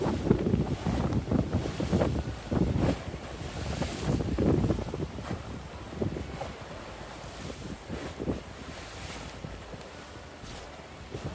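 Strong wind buffets the microphone with roaring gusts while lake water splashes and laps nearby at Weggis, Switzerland, loud at first and easing slightly toward the end.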